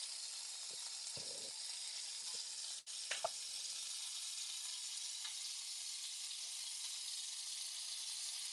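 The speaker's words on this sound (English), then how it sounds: "you guys hear the sizzling?" Jerk chicken sizzles in a hot pan with a steady, bright hissing crackle throughout, faint and even, with a couple of small clicks and scrapes in between.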